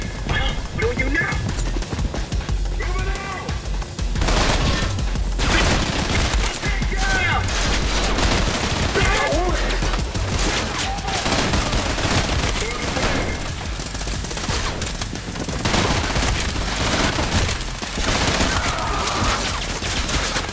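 Dense, continuous gunfire from a Trepang2 shootout, with overlapping automatic bursts and booms that stay loud throughout and barely let up, with voices shouting over it.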